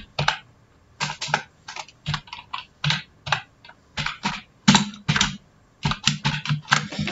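Fingers type on a computer keyboard in quick bursts of clattering keystrokes separated by short pauses, close and clear with no talking.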